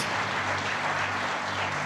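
A church congregation at an evangelical gospel service gives a continuous wash of applause, dense and steady throughout the short moment with no voices over it.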